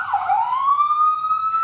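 A toy police car siren wails alone, close and loud: one long tone that dips and then rises to a steady pitch and holds for under two seconds.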